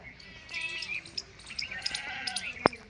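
Goats bleating repeatedly at a goat farm in Bikaner where the animals are kept for sale, several calls overlapping at moderate distance, with chirping birds and a sharp knock near the end.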